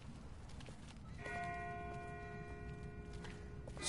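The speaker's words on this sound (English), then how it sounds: "That's not the same bell as before. This one's further off." Distant bell tolling in The Walking Dead video game, a single sustained ringing tone with clear overtones emerging faintly over low ambient rumble and lingering to the end.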